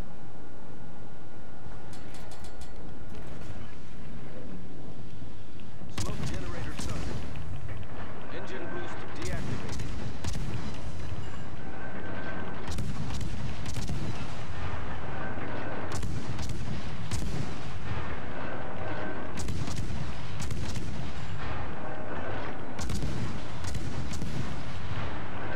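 Naval gunfire in a warship battle game, loud repeated heavy cannon booms in irregular bursts over a constant rumbling battle backdrop, mixed with other players' voices talking.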